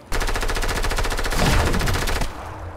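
Rapid automatic gunfire in the Fortnite video game, a loud, continuous burst of evenly spaced shots lasting about two seconds before cutting off.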